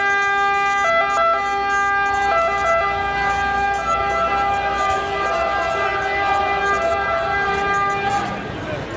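An ambulance siren from the General Hospital of Pyrgos wails loud and close during a workers' protest march in Ilia, Greece, with a steady tonal pattern that shifts pitch a few times before fading near the end.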